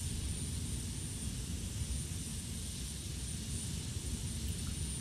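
A steady, droning Boeing 727 jet engine roar in Flight Simulator X holds constant throughout, a low rumble with a hissing upper edge and no speech.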